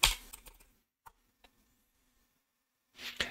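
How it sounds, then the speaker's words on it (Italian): A password is typed on a computer keyboard during a Windows account setup, a few scattered quiet key clicks in near silence, with brief louder bursts of noise at the start and end. "Digitiamo la password"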